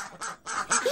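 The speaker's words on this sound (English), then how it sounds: "The duckling gave a loud quack" A cartoonish duckling gives a loud, nasal quack, then several more in quick, uneven bursts, close and clear, like a sound effect in a fairy-tale reading.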